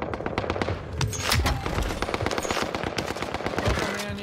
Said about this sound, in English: Bastards are shooting at me!